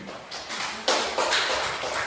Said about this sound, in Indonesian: berikan aplaus ke temannya dulu